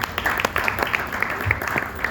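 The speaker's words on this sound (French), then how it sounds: "vous pouvez applaudir ces gens." Audience applause after a talk on Moroccan Jewish cuisine from Fez to Montreal, a moderate patter of clapping with scattered sharper claps, steady across the short moment and fairly close.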